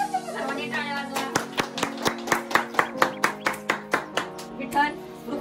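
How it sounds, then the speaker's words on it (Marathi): A group claps together for the winner of a mobile-mirror party game at a Women's Day get-together, about sixteen sharp, rhythmic claps in a steady beat over a droning melodic background. "सर्वांनी टाळ्या वाजवा"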